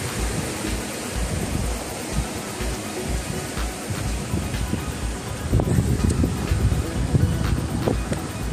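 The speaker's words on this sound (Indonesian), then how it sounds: "Kondisinya gerimis." Light drizzle falls outdoors near a limestone cave on a karst hill, a steady close hiss of rain with low wind rumble throughout, heavier patches toward the end.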